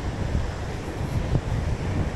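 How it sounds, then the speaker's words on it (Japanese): Strong coastal wind buffets the microphone on a gravel bike ride along the seashore toward Inubōsaki, a loud, constant low rumble and rush that fills the whole stretch. "風がなかったらもうちょい気持ちよく走れるんですけど、結構風をやっぱ海岸線なんでね強めなんですよ"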